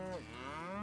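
A single cow moo from livestock in the Farming World video game, a short, close, harmonic lowing call of under a second, heard alone without talk.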